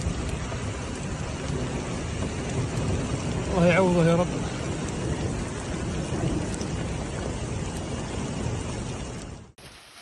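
Heavy hail drumming steadily on a surface in Saudi Arabia, with a brief voice speaking partway through before the sound cuts off.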